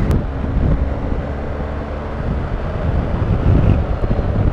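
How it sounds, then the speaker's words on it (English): Strong wind buffets a microphone on a Honda NC850 motorcycle adventure ride, a loud, constant low roar with no other sounds. "Very breezy up here"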